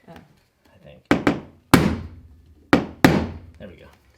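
A hammer whacks a nail head during home repair, five sharp, ringing strikes in uneven pairs, loud and close, with a bit of quiet talk in between.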